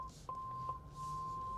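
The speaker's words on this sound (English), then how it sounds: "That beep, that means that the nose is close to the ground." A Porsche Taycan's low-nose warning beep: a steady electronic tone holds throughout with a couple of brief accented pulses, faint over a low engine hum.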